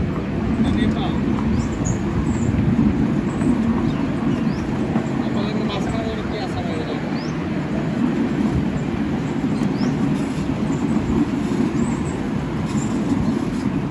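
A miniature tourist train runs around a model park in Pattaya, Thailand, a steady, loud rumbling roll lasting throughout, with faint voices of people mixed in.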